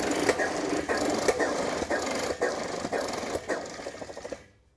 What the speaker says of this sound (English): I will now put air into the air motor to get an actuation of the pump